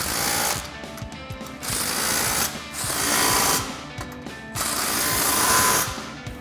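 Impact wrench with a 15mm socket tightening the front exhaust clamps at the X-pipe of a 2024-2025 Mustang GT cat-back install, three loud rattling hammering bursts separated by brief pauses.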